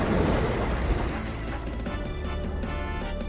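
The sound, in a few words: rain falling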